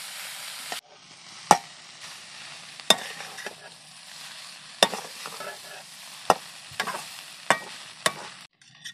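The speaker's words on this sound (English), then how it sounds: "just add the noodles here. And mix this thoroughly" Butter garlic Maggi noodles being mixed in a pan: a soft background sizzle broken by sharp, irregular scrapes and knocks of the spatula against the pan, close and fairly loud.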